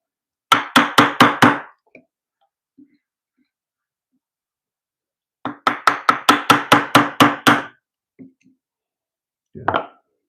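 A mortise chisel is struck in quick rhythmic bursts while chopping a square mortise in wood, two runs of rapid sharp knocks separated by a pause, with a few stray taps after.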